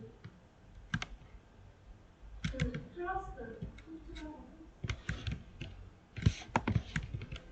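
Close computer keyboard keys click in scattered bursts and single presses while someone talks over them in a quiet room.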